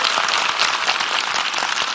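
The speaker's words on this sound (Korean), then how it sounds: "박수 한번 부탁드리겠습니다" Steady applause from an audience at a talk event, a dense even wash of clapping that holds at one level for the full two seconds with no voices over it.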